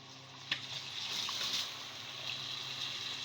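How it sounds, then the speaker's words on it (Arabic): Water poured into a pot of rice and vermicelli sautéed on the stove for a potato and chicken wing tray dish, a steady close hissing gush with a sharp splash at the start. "نحط بقى الميه كده."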